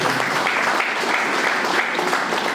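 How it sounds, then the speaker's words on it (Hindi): An audience at a Safe Shop motivational gathering gives a hearty round of applause, a close, even roar of clapping lasting the full short span. "हम चाहेंगे कि उनके लिए एक जोरदार ताली।"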